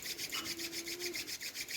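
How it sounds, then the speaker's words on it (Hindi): Hands rub briskly together during a home yoga session, a soft, quick, rhythmic swishing that is faint and close, with no talking. "अब अपने हाथों को रब करें एक दूसरे के साथ।"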